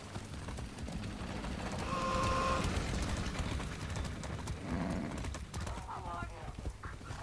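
Horse galloping in the video game Far Cry 6, a steady rapid clip-clop of hooves with a brief whinny partway through, with a voice talking over it.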